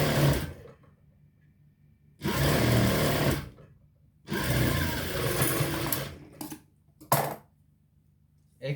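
Sewing machine stitching the sleeve of a shirt, running in three loud bursts of steady whirring of about a second or two each, with short stops and a few brief clicks between them.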